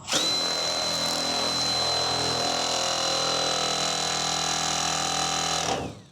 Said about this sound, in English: So we got a new tool, the old Shocker. Milwaukee shears.